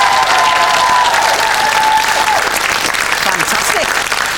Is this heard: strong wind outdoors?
no